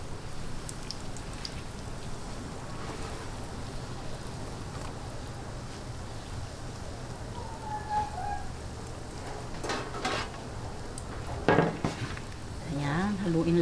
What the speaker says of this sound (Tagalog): haluin lang po natin para po ma-mix lahat at malagyan lahat yung ating karyoka